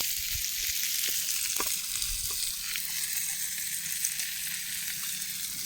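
Fish frying in a pan outdoors beside a river dam, a steady loud hiss and crackle of hot oil throughout, with faint clinks and low background rumble.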